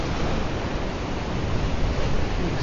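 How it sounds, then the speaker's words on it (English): Ocean waves break along the beach at Bilgola Beach headland, a steady broadband surf roar that stays fairly loud and even throughout with no distinct individual crashes. "You can see how the waves are breaking in"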